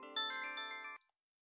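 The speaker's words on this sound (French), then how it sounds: "vous avez dû l'entendre avec moi, la sonnerie" A bright electronic phone ringtone previews on an HTC One smartphone, a quick tonal melody of several notes lasting about a second before stopping abruptly, clear and alone.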